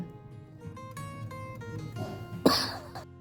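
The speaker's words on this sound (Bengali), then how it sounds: "আমার খুব কাশি হচ্ছে মানে এক সেকেন্ডে সেকেন্ডে কাশি আসছে" One sharp, sudden cough rises briefly over a soft, steady musical background, then fades.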